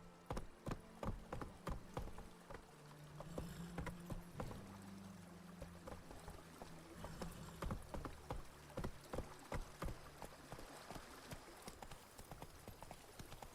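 Roach the horse galloping in The Witcher 3: Blood and Wine, rapid rhythmic hoofbeats pounding steadily and close, with a low rumbling backdrop and no talk.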